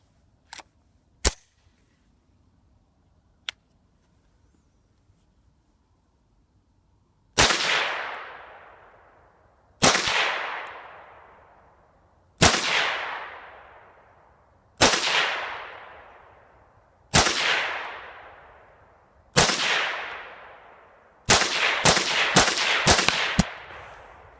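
A .22 Magnum WMR rifle test-fired with a Volquartsen high-capacity magazine: a few faint clicks, then six sharp, loud shots at steady intervals of about two and a half seconds, ending in a rapid burst of five quick shots, with no talk.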